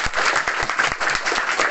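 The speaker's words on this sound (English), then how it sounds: "Clap for them!" An audience at a school inter-house quiz contest applauds the participants, a loud, dense burst of many hands clapping close by, sustained throughout.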